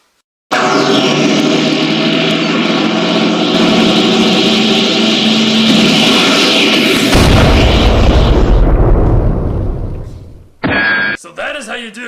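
Big staged explosion effect for a computer being blown up: a loud sustained roaring blast swells for several seconds, then breaks into a deep rumbling tail that cuts off abruptly, followed by brief scattered clatter.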